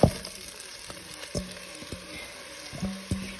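Two large white onions sizzle in melted butter in a pot for French onion soup, a soft frying hiss broken by a few clinks and scrapes of a utensil stirring them, quiet and close.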